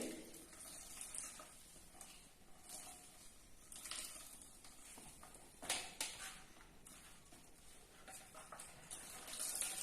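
Boiled mustard greens are squeezed by hand to press out their cooking water, giving a quiet, continuous trickle and dribble of liquid with soft wet squelches and no talking.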